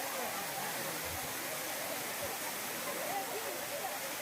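Waterfall at Thirumoorthy hills, a steady, dense roar of falling water close by, unbroken throughout with faint voices under it.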